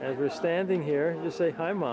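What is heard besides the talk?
None of the usual background noises is heard.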